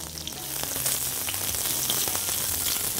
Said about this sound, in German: Dann fangen wir hier gleich an, mache ich die Karotten rein. Und brate jetzt hier in der Mitte an.